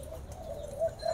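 Doves in an aviary coo softly, a short low murmuring call rising near the end over quiet background hum.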